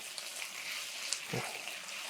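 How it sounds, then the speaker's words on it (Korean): Mixed ingredients from the fridge are stir-fried together in a pan, giving a steady, close sizzling hiss with a brief scrape or clatter partway through. "모든 재료들을 같이 섞어서 한번 살짝 볶는다는 느낌 정도만 해주시면 끝납니다."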